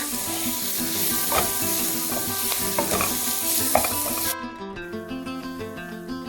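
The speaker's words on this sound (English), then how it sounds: "Now let's stir fry it for another 5 to 10 minutes till the onions become nice and translucent." Onions stir-frying in a pan give a loud, steady sizzle with scraping stirs through it, then the sizzle drops sharply to a quieter, softer hiss near the end.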